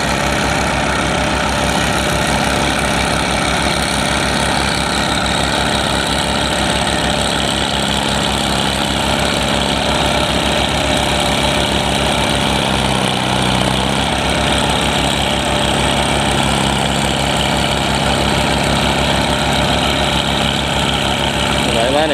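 Rotary tiller engine running steadily while the machine is bogged in mud in a wet field, a loud, close, continuous mechanical drone with rough low-end throb and no breaks throughout.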